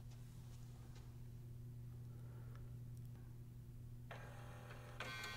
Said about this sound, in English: The printer will begin initializing and make some noise.